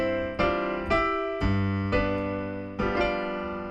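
Piano playing the left-hand accompaniment of Scott Joplin's ragtime piece The Entertainer, five struck bass-and-chord notes spaced about half a second apart, each ringing and decaying, played alone with no voice.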